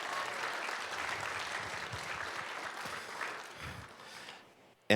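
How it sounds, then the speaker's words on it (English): Audience applause for a volunteer award recipient at a Hayward, California recognition event, a steady broadband clatter of many hands filling the room before tapering off near the end. "let's give Lonnie a big round of applause"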